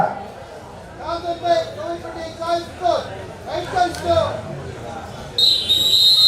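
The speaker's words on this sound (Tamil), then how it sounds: "தம்பி விசில் எதுக்கு அடிக்கிறாங்க பார்க்க மாட்டியா?" Referee's whistle at a local village sports club match, sharp high blasts near the end over crowd chatter and a voice talking through most of the clip.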